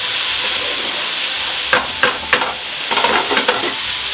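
A pan of onions, mushrooms and garlic fries with a steady sizzle while a spoon scrapes and turns them in several short, close strokes through the second half.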